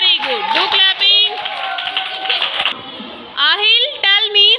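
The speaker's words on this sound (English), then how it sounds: "Very good. Do clapping." Second-class schoolchildren in a classroom clap together in short bursts, mixed with children's voices and a teacher talking.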